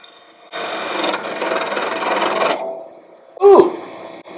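A woodturning gouge rasps steadily against wood spinning on a lathe for about two seconds, then a sudden sharp knock marks the tool catching, loud and close.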